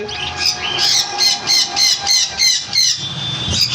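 At a bird seller's shop holding blue conures and other pet birds, a bird nearby gives a run of about ten sharp, evenly spaced squawking calls in a quick steady rhythm.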